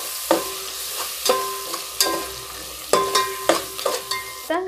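A spoon scrapes and clanks through fish biryani masala with ginger-garlic paste in a pan, in about a dozen sharp, irregular strokes over a soft sizzle, close and fairly loud with no talking.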